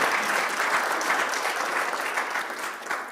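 Sustained applause from an audience in a room at a university awards ceremony, steady dense clapping that holds for about three seconds without pause.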